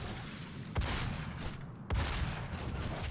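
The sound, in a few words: gunfire in the video game DOOM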